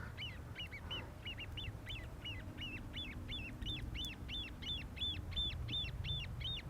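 Young grebe chicks near an airport pond give a steady train of high, piping peeps, roughly three a second, getting slightly louder, over a faint low hum and distant background rumble.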